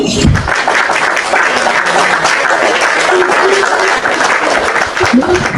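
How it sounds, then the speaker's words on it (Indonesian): Sustained applause from an audience at a heated live debate event, dense and steady throughout, loud and close, with a voice speaking briefly near the start. "Oh, tadi udah tepuk tangan di bawah."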